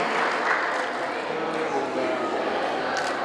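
A campus audience at an Indonesian film award event applauds five guests, with sustained, moderately loud clapping that continues evenly and carries faint voices beneath it.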